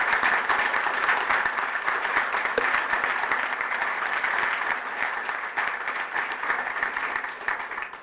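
Sustained audience applause at a town hall meeting, a dense, steady wash of many hands clapping that holds loud for the whole stretch and eases slightly near the end.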